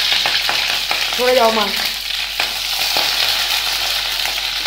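Tender spring onions sizzle steadily in hot oil in a home kitchen wok, with stirring scrapes over a continuous loud crackle and a short spoken interjection partway through.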